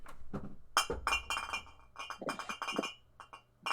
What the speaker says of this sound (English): You just hear the clinking.